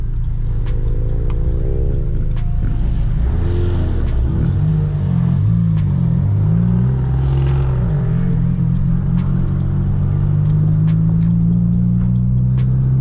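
An Integra's engine rumbles loudly up close, rising and falling as the car accelerates and revs through shifts, with a steady road drone underneath.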